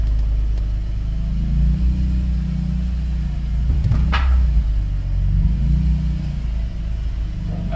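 A BMW E46 M3 drives along with a deep, steady engine rumble and road roar heard from inside the car, loud and continuous, with a faint click partway through.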